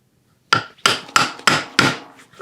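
Wood being chiseled for a carpentry joint (a koshikake kama-tsugi splice), with five sharp, evenly spaced mallet strikes on the chisel ringing out close and loud, each dying away quickly, and no talk.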